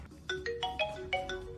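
A phone ringtone plays inside the video game GTA 5 roleplay. It is a short, bright melodic tone pattern that repeats a few rising notes at moderate volume, with no voices over it.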